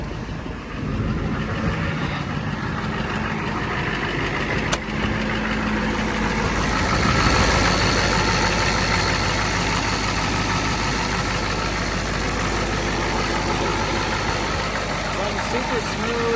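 A Ford 6.9 IDI diesel truck engine, already warmed up, fires and settles into a steady rumbling idle close by, with someone talking over it.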